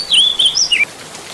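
Song of an oriental magpie-robin, a clear, loud run of sweet whistled notes that rise and fall, close and alone, ending abruptly after less than a second.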